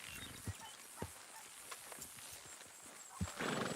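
Horse hooves clip-clop at an unhurried pace in the Red Dead Redemption 2 western game world, a few sharp thuds standing out over a steady outdoor ambience, with a louder burst of noise near the end.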